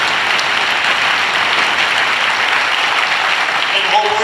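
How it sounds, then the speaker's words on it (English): A crowd at a unity and justice rally gives a sustained round of applause, dense clapping that stays loud and steady from start to finish. "how about a round of applause for all of these?"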